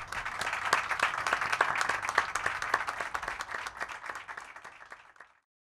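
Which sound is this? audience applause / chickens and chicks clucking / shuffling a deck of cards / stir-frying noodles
audience applause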